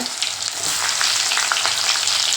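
Onion and garlic frying in hot oil for a spicy Tamil-style dried fish curry, a steady bright sizzle with faint stirring crackles, close and continuous with no talk.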